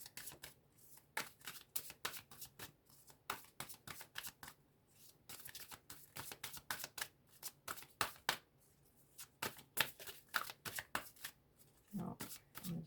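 Tarot cards shuffled close by in a repeated series of quick riffling bursts with brief pauses between them, while a person talks quietly.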